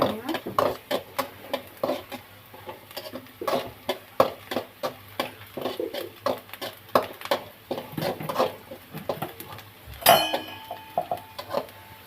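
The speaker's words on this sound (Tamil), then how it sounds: "நான் ஸ்பீடில் வச்சு தான் கை விடாமல் கிண்டிகிட்டு இருக்கேன்" A spoon stirs a mixture in a pan as it browns, making repeated quick scraping clinks in a steady irregular rhythm, close and fairly quiet, with one sharper metallic clink near the end.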